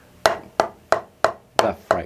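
Six crisp strikes on a drum pad or snare, played as paradiddle-style singles and doubles at a slow, even warm-up tempo, each a sharp close attack with a short decay and no talking.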